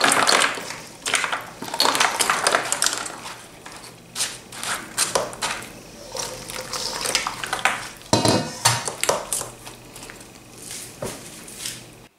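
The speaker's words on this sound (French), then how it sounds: "je vais répartir l'ensemble du mélange dedans comme ça" A no-bake chocolate walnut cake mixture being spread into a buttered springform pan, with close, busy scraping, pressing and clattering of a utensil against the mould in uneven bursts, and no talking.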